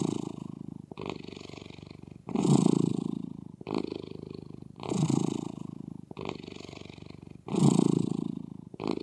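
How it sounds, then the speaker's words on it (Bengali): A cat purrs close up in a steady rhythmic cycle, each low rumbling breath swelling and fading in turn, about seven pulses in a row with no talking. "বিড়ালের মধ্যে এক ধরনের সাউন্ড হয়, বলতে পারেন কিছুটা ফোনে ভাইব্রেশন হলে যেরকম সাউন্ড"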